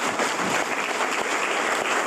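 A live audience claps steadily through a prize announcement on a stage show, dense and sustained from start to finish with no voices over it.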